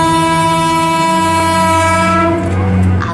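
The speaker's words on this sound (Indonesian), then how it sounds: "Masa sih mereka tidak mendengar suara kereta yang semenggelegar itu?" A train thunders past at close range, a loud, sustained horn blast dominating over the rumble of the rail cars, with no voices.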